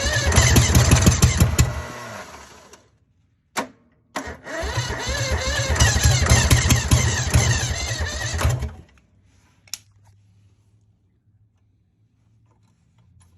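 The engine of a repowered mini skid steer cranks and briefly fires in two loud bursts, separated by a short pause and ending in faint low idle-like rumble and near silence.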